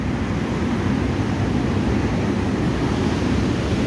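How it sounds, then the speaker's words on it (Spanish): Rough, heavy sea surges in a constant loud roar of crashing waves and wash, a dense unbroken noise with no voices. "La mar está muy brava, está fuerte"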